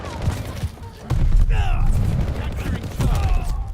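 PPSh submachine gun fire in Call of Duty: Vanguard, with the Skull Island Shaker blueprint, in bursts of loud, dense, rapid shots over booming game effects, with sporadic shell and mechanism clinks.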